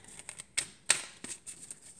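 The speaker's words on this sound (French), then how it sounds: "Je mélange bien parce que j'ai fait plusieurs tirages à la suite." Tarot cards being shuffled by hand, heard as soft, light paper clicks and flicks with a few sharper snaps, close and quiet, with no talk.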